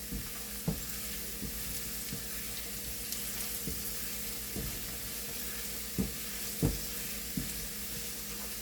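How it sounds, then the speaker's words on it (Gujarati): Puffed rice poha sizzles steadily in a hot pan while a utensil mixes it, scraping and tapping against the pan every second or so, soft and close. "તેને આપણે મિક્સ કરી દઈશું."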